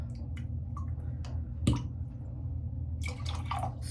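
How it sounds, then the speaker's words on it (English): A soaked 22 mm high-density shaving brush is squeezed, giving quiet scattered drips, one sharper wet splat midway, then a faint patter of droplets near the end. "squeeze most but not all of the water out, give it just a tiny shake"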